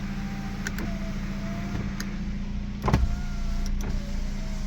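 Electric power windows on a Kia Cee'd whir steadily through a parked-car cabin, with a few soft clicks and a thump as the glass stops and starts again.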